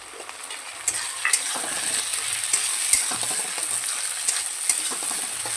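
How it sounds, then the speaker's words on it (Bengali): Ginger garlic paste and chopped tomato fry in a pan with a steady, bright sizzle, while a utensil scrapes and clinks now and then as the mixture is stirred. No one speaks. "আদা রসুন আর টমেটোটা দিয়েও ভালো করে একটু কষিয়ে নেব"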